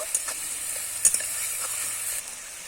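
Ginger paste sizzles in a hot pan while being stirred for a cabbage and egg curry, a steady close hiss with a few light scraping taps from the spoon.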